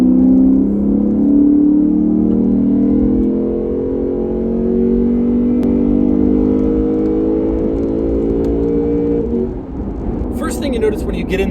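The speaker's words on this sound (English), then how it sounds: "Now it's time to get it out on the road and see how it drives." A 2020 Lexus GS F driving on the road, its engine giving a steady, loud low drone with harmonic bands that shift gradually as the car moves along, ending in some lighter rattling noises.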